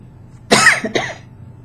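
A person coughs twice in quick succession, a harsh burst followed by a shorter second cough, close by against a quiet background.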